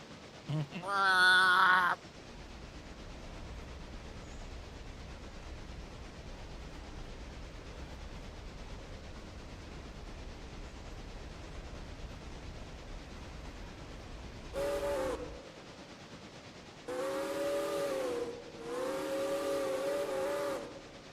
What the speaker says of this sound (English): Hey, look, here comes the train.